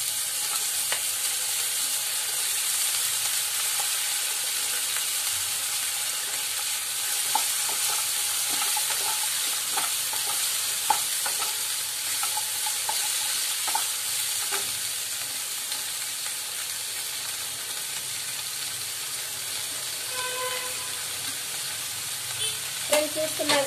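Cauliflower frying with garlic paste and onions in a pan, a steady hiss and sizzle running throughout with occasional light stirring clicks and a few louder scrapes near the end.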